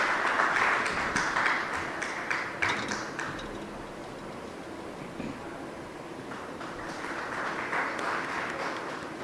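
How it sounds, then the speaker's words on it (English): A summit audience applauds dignitaries on the dais, a dense sustained clapping that swells, dips slightly midway, then builds again, with no talk. "I believe we should just not stop clapping to thank the dignitaries present on the dais"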